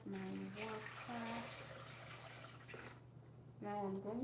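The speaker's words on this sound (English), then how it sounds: "And I'll add my water." Water pours into a cooking pot during home cooking, a soft splashing flow that runs beneath a voice talking close by.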